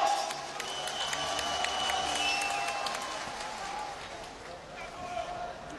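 An arena crowd applauds and cheers during a heavyweight intercontinental WBC boxing bout, Okello Peter against Evgeny Orlov, a steady wash of clapping and crowd noise under someone commentator's voice.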